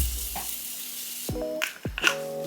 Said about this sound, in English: I'm gonna go in with the Morphe Continuous Mist Setting Spray and just set my face.